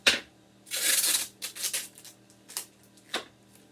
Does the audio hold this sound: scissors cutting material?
yes